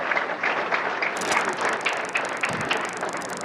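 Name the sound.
applause from bowling event crowd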